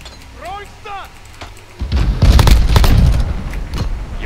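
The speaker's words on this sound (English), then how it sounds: "Grenade out!" Grenade blast in Call of Duty Modern Warfare: a short voice line, then a deep, loud boom with rolling rumble and debris that fades gradually.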